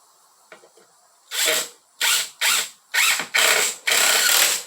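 A power drill whirs in five short bursts, each driving a screw a bit further, with brief pauses between and faint clicks before it starts.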